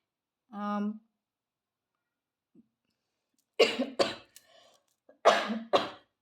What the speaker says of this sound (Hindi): उसके बाद खांसी आई है मुझे